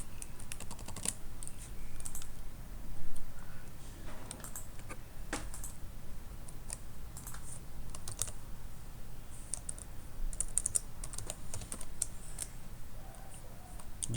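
Keys tapped on a computer keyboard while entering a password to log in to a web application, a steady run of light irregular clicks with a few louder strokes, close and alone with no talk.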